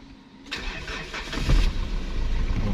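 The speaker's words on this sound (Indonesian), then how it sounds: "baru kita bisa hidupkan mesin mobilnya" A 2016 Mitsubishi Triton GLS pickup with manual transmission cranks briefly and fires up close by, its engine catching with a surge and settling into a steady, loud idle.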